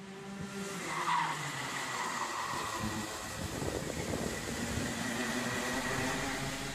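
A Mini Max race car skids under braking into a hairpin, a sustained tire scrub layered over the engine drone, fairly distant and steady throughout.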